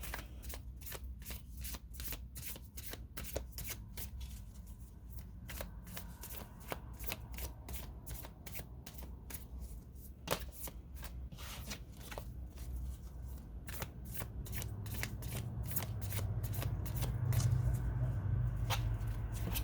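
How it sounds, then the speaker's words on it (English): A tarot card deck being shuffled in quick repeated riffles and taps, steady and close, with a low background hum that swells toward the end. "This is a different method of shuffling that I've recently adopted."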